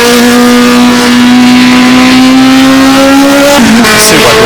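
Formula Junior race car in Automobilista 2 holding a steady, loud high-revving engine drone that climbs slightly, then drops sharply near the end as the pitch collapses and shifts.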